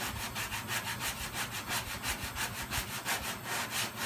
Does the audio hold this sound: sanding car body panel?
yes